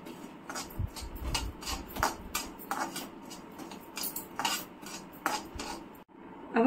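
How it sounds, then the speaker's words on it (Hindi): Poppy seeds being dry roasted in a kadhai, with repeated scraping and clinking strokes of a spatula against the metal at a steady, uneven rhythm close by, without speech. "अब हम पोस्ता दाना को थोड़ा सा ड्राई रोस्ट करेंगे"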